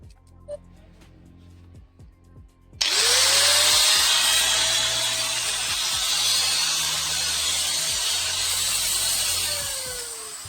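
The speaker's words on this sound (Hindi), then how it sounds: "अब जल्दी से बैक कवर को अटैच करते हैं और फिर ग्राइंडर को ऑन करके देखते हैं" An angle grinder, just repaired after its burnt armature was replaced, switches on after a few quiet clicks and handling noises, spinning up with a rising whine into a loud, steady, close high-speed motor drone that holds with no talk.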